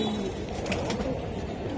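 Silver Giribaz pigeons coo softly at a pigeon market, a low throaty murmur under a busy, noisy background.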